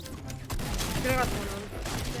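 Gunfire in a video game, a burst of rapid shots over a low rumble while a player talks over the action.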